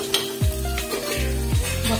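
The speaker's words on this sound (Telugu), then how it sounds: "పక్క సాంబార్ కి తాలింపు." Tempering for sambar sizzles steadily in a hot pan, with a spoon stirring and scraping against the metal in a few distinct strokes, close and loud.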